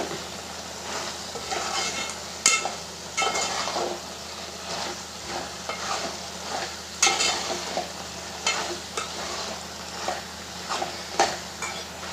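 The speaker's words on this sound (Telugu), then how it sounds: "కొత్తిమీర ఎసరంత అంతా పోయేలాగా కలుపుతూనే ఉండాలి" A spoon stirs cauliflower mixed vegetable curry with coriander in a pan, producing repeated scraping strokes over a soft continuous sizzle, close and moderately loud.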